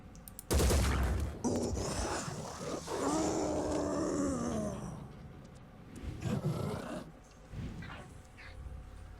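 Gunfire erupts in the video game Phoenix Point, a sharp loud burst followed by rumbling, roaring creature-like growls and further impacts, fading and resurging over several seconds.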